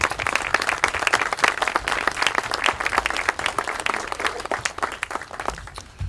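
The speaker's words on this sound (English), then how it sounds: "give a round of applause for all those who preceded us" An outdoor Memorial Day service crowd in Darien breaks into applause, loud dense clapping from many people that holds steady and then begins to thin near the end.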